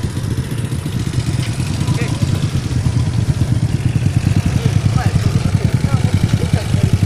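Motorcycle engine idling close by in Ipoh with a steady low, pulsing rumble that holds throughout at a constant level.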